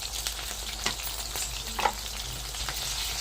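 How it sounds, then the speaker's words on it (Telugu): Onions, green chilies and ginger paste fry in a pan with a continuous close sizzle and crackle, punctuated by a few light taps and stirring scrapes. "ఎర్రగడ్డలు, అల్లం పేస్ట్ అయితే మంచిగా వేగిపోయింది అనమాట"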